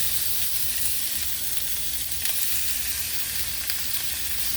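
Beef meat hits a hot pan and sizzles in a steady, bright, crackling hiss that holds evenly throughout, with no talking.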